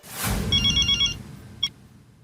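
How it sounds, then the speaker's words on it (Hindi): A telephone rings with a short electronic trill of rapid pulses, then a single brief chirp, close and clear over a low rumble. "मेहता साहब को फोन करके बोल देता हूँ"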